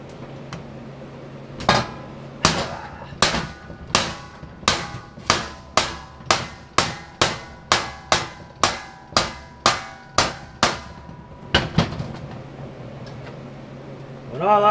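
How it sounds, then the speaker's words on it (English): A big hammer strikes metal car ramps in a steady run of about fifteen loud, ringing blows, each clang decaying quickly, preceded and followed by a few scattered knocks. "When all else fails, use a big hammer"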